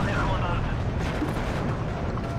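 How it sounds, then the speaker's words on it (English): Artillery barrage in a war strategy video game, a dense continuous rumble of explosions filling the whole stretch, loud and low-heavy, with voices talking underneath. "I'm really sorry about this artillery's gonna drop in here."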